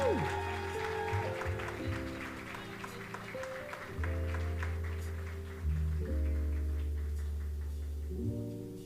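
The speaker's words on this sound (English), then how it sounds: "Clap her again, please." Applause from a graduation ceremony audience after an award is announced, sustained clapping spread across the full stretch over background music, fairly loud and steady.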